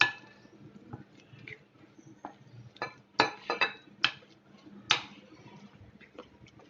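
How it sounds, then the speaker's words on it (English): Spoon taps and clinks against a bowl while veg pops dough is mixed with breadcrumbs, a handful of sharp scattered knocks over a quiet background. "Now mix it and make it like a dough."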